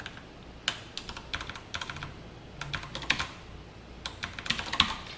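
Code typed on a computer keyboard in quick, uneven bursts of crisp keystrokes, close and clear with no talking.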